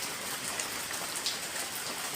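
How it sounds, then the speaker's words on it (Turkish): Heavy rain pours down outside a mosque in Bayrampaşa, a dense, steady hiss of drops on hard surfaces with no voices, loud and continuous throughout. "Şiddetli yağmur olmasına rağmen"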